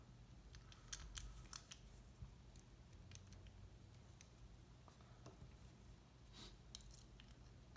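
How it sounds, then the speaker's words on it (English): Lock pick raking and clicking against the pins of an American 1100 padlock, a string of faint, close scratchy clicks in scattered bursts with no voice. "We're going to do a zip and then go for that single pin."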